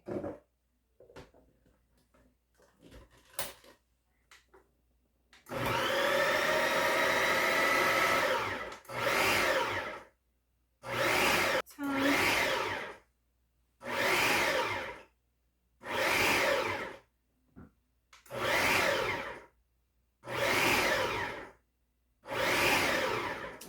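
A food processor chops quiche ingredients in one long whirring run, then in about seven loud pulses separated by short silences.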